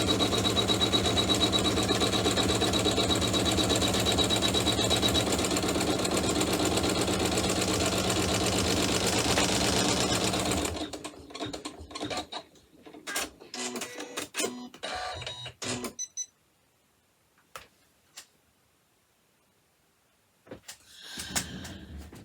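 An embroidery machine tacking down the edges of a pouch runs with a loud, fast continuous stitching buzz for about ten seconds, then stops into short stop-start bursts and whirs with quiet gaps between.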